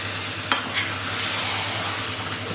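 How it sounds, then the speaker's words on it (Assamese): Butter chicken gravy stirred in a pan with hot water added, a soft continuous bubbling sizzle with a couple of brief spoon scrapes, close and steady, no voices. "ভালকৈ এতিয়া লৰাই দিব"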